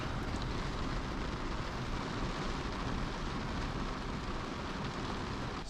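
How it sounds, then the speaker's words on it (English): A heavy rain shower sweeping across open water ahead of a storm, heard as a loud, steady broadband hiss and roar with no pauses. "I could hear this massive wall of rain coming across the water"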